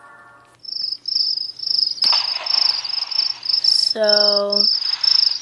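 Steady, loud cricket chirping in the video game The Visitor, repeating in rapid pulsing bursts for several seconds, with a brief spoken word and a short tonal game sound partway through.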